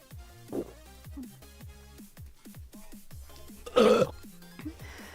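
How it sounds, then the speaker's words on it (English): Burps after chugging a whole can of drink, several short throaty bursts spread across the stretch, with one louder and harsher near the end. "I'm about to chug this entire can and then try to burp"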